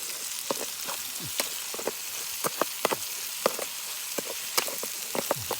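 Curry paste is stir-fried in oil outdoors in the forest, a close, steady sizzle broken by irregular sharp crackles and pops.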